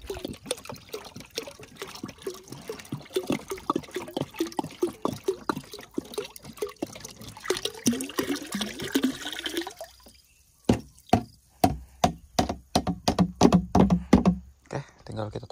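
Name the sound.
water poured into brown sugar mixture for spraying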